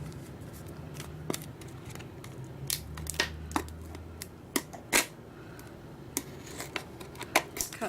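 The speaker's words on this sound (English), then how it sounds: "Cut around the bottle. Use a pair of utility scissors," Utility scissors snip their way around a small plastic bottle, making quiet, irregular clicks and crackles of cut plastic over a low background rumble.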